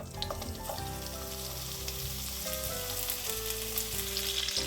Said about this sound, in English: I'm going to add my cubes or lardons of guanciale.